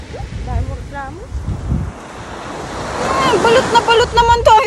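Surf washes continuously onto a beach with steady wind noise buffeting the microphone, waves swelling louder toward the end while distant voices murmur faintly.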